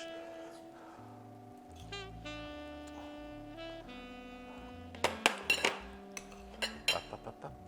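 Plating penne alla vodka onto dishes, with a run of bright clinks and knocks of utensils against plates and pans near the end, close and fairly soft over low, steady background music.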